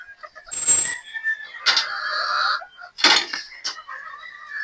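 Pullets from 50-50 chicken crosses clucking and calling in short, fairly close bursts, with one sharper squawk near the start and softer chatter between the calls.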